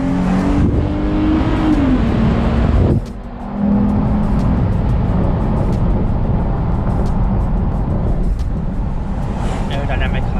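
Jeep Grand Cherokee fitted with an Apexi open air intake, accelerating hard: a loud, close engine roar and intake rush that climbs in pitch, dips briefly near the three-second mark, then holds a steady drone under load.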